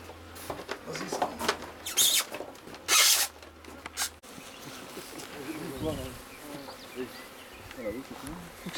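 Bees buzz in and around a beehive at a hands-on beekeeping course, a close droning hum with scraping and rubbing noises early on and fainter buzzing afterward.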